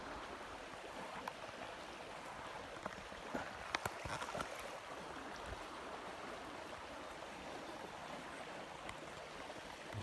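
A river flowing in a steady broadband rush, continuous and fairly even throughout, with a few faint knocks near the microphone and no talking.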